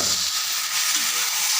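Rice flour, grated coconut and drumstick leaves are sautéed in a pan, giving a steady, close, bright hiss and sizzle with no pauses.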